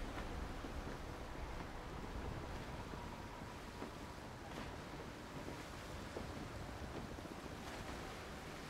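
Ocean waves in the Roblox game Arcane Odyssey, a steady wash of surf and wind noise with a faint creaking boat, continuous and even throughout, with no voices.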